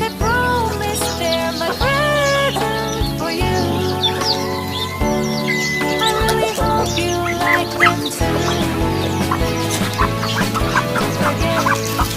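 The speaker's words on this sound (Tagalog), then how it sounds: "Mga sisiw." Chicks peep with high, short calls among clucking hens on a small backyard farm raising ducks and chickens for sale. The chatter stays loud and continuous throughout, with no talking.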